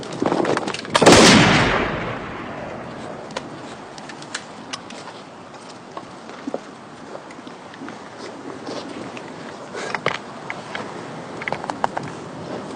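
A rifle shot in a period war drama, one loud sharp crack with a rolling tail, followed by quiet outdoor ambience with faint scattered clicks and footsteps.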